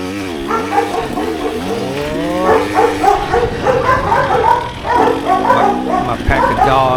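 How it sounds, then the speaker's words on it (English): A pack of dogs barking and yipping together, loud and continuous with overlapping voices, heard near a C-Class carnage motorsport event with engine noise underneath. "My pack of dogs. My alarm system is going off."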